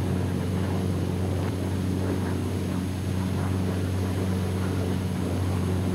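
A P-47 fighter plane's engine drones steadily during stall practice with wheels and flaps down, a loud, unbroken propeller roar with a low rumble throughout.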